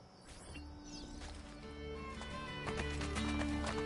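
Hooves clip-clop in a quick galloping rhythm as a horse runs in Assassin's Creed Brotherhood, the beats growing louder and nearer over a few seconds, with faint game ambience and birds behind.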